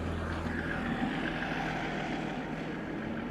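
A British Airways Airbus A321 jet at Schiphol Airport, a steady distant engine roar and hum holding constant throughout, with no talk.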